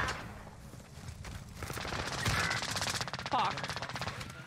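Rapid machine-gun fire in the Modern Warfare shooter, a fast rattling stream of shots that builds and stays steady, moderately loud, with a voice speaking briefly under it.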